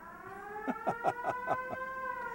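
A brief siren-like tone from an organ's special-effect stop, with steady sustained pitches and a rapid warbling pulse of about six beats, moderately quiet and heard alone.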